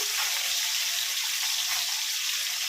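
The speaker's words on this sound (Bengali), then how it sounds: "এদিকে মাছটাও আমার ফুটে এসছে" Fish frying in hot oil, a loud, dense, crackling sizzle that carries on without a break.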